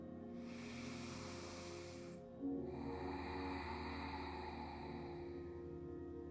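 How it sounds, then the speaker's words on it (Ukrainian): A deep, slow breath drawn in through the nose during a morning yoga practice, a soft airy hiss that swells and then continues, quiet and close with no talk over it. "робимо повний глибокий вдих через ніс"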